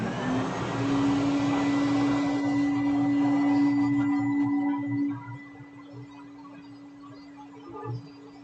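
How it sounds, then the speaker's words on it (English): A vacuum cleaner runs steadily on a dog for several seconds with a loud whining drone, then its pitch and loudness drop as it winds down. "we're going to do a vacuum of her quickly"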